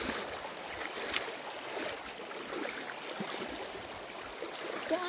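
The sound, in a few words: flowing river stream during hike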